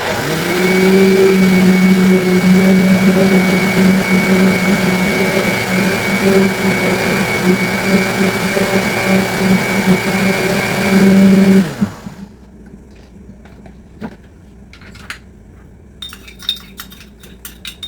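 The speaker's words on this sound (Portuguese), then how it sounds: "vai ficar com o barulho do liquidificador" A blender whirs loudly and steadily for about twelve seconds mixing cornmeal cake batter, then cuts off, leaving faint clinks and small kitchen sounds.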